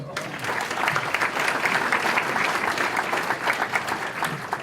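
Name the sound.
audience applause at a hall of fame induction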